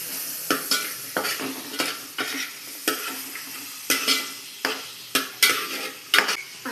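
Onions and curry leaves sizzle in hot oil for a spicy chicken curry, stirred with a spoon that scrapes and clinks against the pan in regular strokes, close and clear with no talking.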